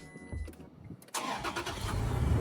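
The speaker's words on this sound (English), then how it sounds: "hearing your truck start means that everything was done right." A Toyota Tacoma pickup truck engine cranks briefly, then catches and fires up after a torque tune, settling into a loud, steady rumble that builds slightly in strength.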